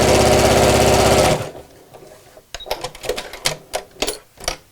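A sewing machine stitches a drawstring beach bag seam within the seam allowance, a loud, close, fast mechanical whir for just over a second, then stops, followed by scattered clicks and handling noises.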